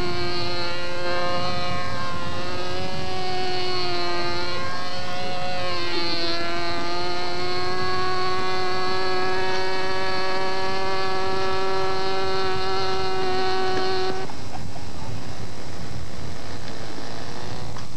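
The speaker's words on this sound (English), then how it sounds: "We're going to see 3 consecutive loops here as part of his schedule for his aerobatic maneuvers." A model aerobatic airplane flying three consecutive loops gives a loud, continuous, whining engine drone whose pitch rises and falls through the maneuvers before cutting off abruptly near the end.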